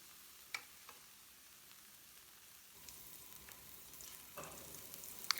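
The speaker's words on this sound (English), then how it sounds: "we're now ready to start mixing up our fried rice" Rice and vegetables stir-fried in a pan, a faint steady sizzle with occasional scraping taps of a utensil, growing slightly louder partway through.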